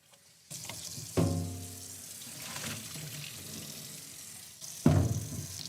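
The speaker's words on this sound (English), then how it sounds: "flush this out, let this fill up." Tap water runs into a sink at a window tint shop, a steady splashing gush that starts abruptly, with a sharp burst of flow again near the end; no voices.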